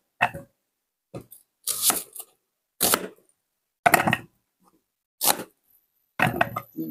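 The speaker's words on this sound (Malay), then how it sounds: "Bawang ni kita potong kasar je ya." Large onions being coarsely chopped on a board with a knife, about seven distinct separated cuts in an uneven rhythm, close and clear with no talk.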